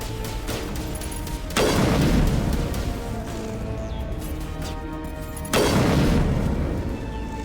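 Grenades detonate in the video game Mass Effect, two heavy booms several seconds apart, each bursting loudly over a constant din of gunfire and battle noise.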